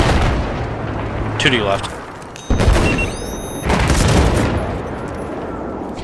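Mortar fire and explosions from the video game Battlefield 4, on the Lumphini Garden map in close-quarters play, with heavy booming blasts and rumbling impacts layered with gunfire, mixed under a voice talking over team chat.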